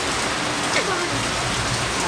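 Steady rain pours down in a dense, even hiss with no breaks.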